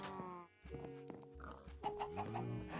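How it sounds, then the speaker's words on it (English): Pigs oinking in Minecraft, a run of short snorting grunts at close range, several calls one after another with game music or ambience underneath. "We could breed some pigs with carrots"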